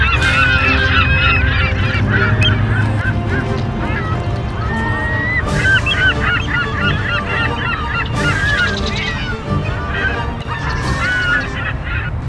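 Seagull calls: loud, harsh squawking and honking cries repeating in irregular bursts close by, several birds overlapping over a steady noisy background with some voices mixed in.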